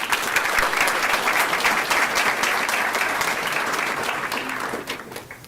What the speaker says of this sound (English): Please join me in a round of applause for Sadie Perez.